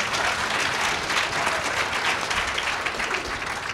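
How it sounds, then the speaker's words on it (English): Applause from the audience at an Angelman syndrome summit round table, dense steady clapping that stays loud and even throughout with no voices over it. "Round of applause for that."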